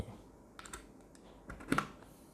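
Quiet, irregular key clicks from a keyboard plugged into an Infinix XPad tablet, a handful of soft taps spread out with a slightly louder double click near the end, no speech.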